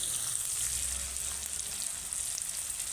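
Onions sizzle steadily in hot oil in a pan for a rohu fish curry with beans and potatoes, a close, continuous bright crackle with no talk.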